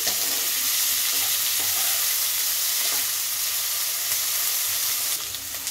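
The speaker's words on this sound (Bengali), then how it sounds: "আলুটা একটু নাড়াচাড়া করে অর্ধেকটা ভাজা হয়ে গিয়েছে" Potato strips and onion fry in hot oil as they are stirred in the pan for a Bengali fish-oil chorchori. The sizzle is loud and close and holds steady throughout, with scraping stir noises near the end.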